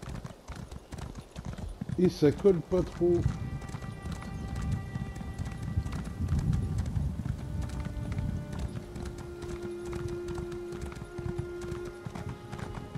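Steady hoof clip-clops of a horse at a walking pace in the video game The Elder Scrolls Online, with a brief whinny early on and someone talking over the game sounds.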